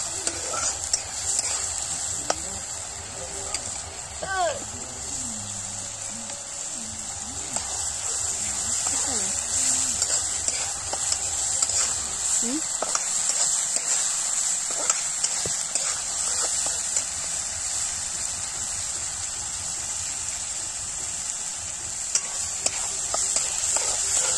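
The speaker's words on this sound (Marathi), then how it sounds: "मस्त मसाला भाजून घ्यायचा चांगला." Chopped onion and a ground masala of coconut, garlic, cumin and coriander fry in a pan over a wood-fired stove for chicken. A steady sizzle runs throughout, with the scrape and clatter of stirring up close.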